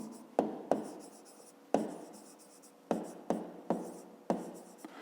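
Pen strokes on paper for a fifth-grade maths exercise, several quick scratchy bursts with brief pauses, quiet and close, with no voices.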